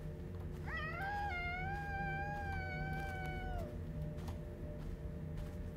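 A cat meows in the indie horror game Mimic Search, one long rising-then-steady yowl lasting about three seconds over a constant low ambient drone, fairly clear and alone without talk.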